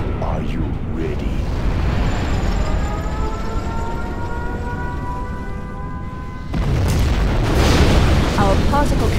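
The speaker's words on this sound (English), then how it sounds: "Our Scud Storm has been launched." A Scud Storm missile strike in Command & Conquer Generals Zero Hour: loud, rumbling explosions and heavy booms roll over battlefield noise, with a fresh burst of blasts near the end.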